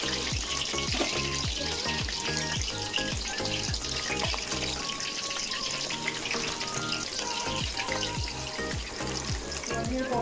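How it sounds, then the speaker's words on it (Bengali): Soya chunk pakoras deep-frying in hot oil over a medium flame, a steady dense sizzle and crackle that holds loud and continuous from start to finish with no talking. "পকোড়াগুলো ভাজা হয়ে যাচ্ছে"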